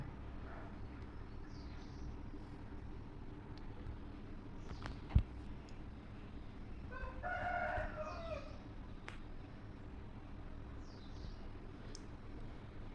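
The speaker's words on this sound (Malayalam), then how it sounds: "കോഴിക്കളൊക്കെ ഉണ്ട് അപ്പുറത്ത്" Faint, distant rooster crowing with scattered hen clucks, carried over a steady low outdoor hum.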